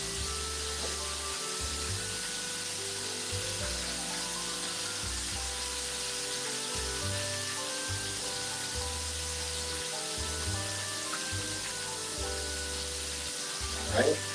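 Yellow mustard fried chicken frying in a pan on a stove, a steady close sizzle and crackle of hot oil running continuously with a low hum underneath.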